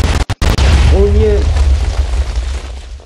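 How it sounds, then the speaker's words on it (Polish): Reactor explosion at Chornobyl unit 4 recreated in Minecraft: a loud, sustained low rumbling blast with sharp pops at the start, then a long roaring decay, with a brief voice sounding over it. "To jest eksplozja."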